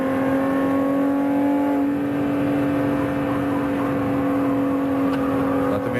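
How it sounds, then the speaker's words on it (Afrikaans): A 1991 BMW 325iS Group N race car with a 2.7-litre six-cylinder engine holds a steady, loud drone at near-constant revs, a smooth unbroken whine with no voices over it. "En luister net na daardie 6-silinder enjin."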